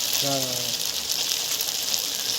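Broth is poured into a pan of egg curry with a continuous, close, hissing gush. A brief voice is heard at the start.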